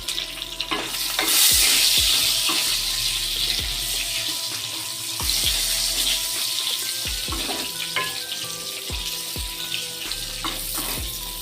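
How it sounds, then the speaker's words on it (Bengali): Brinjal pieces fry in oil in a pan over low to medium gas, giving a steady close sizzle and crackle with occasional stirring clatter and no talking. "আমি বেগুনগুলো ভেজে নেবো"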